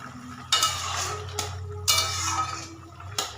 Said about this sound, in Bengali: এইদিকে আমার তরকারিটা ফুটছে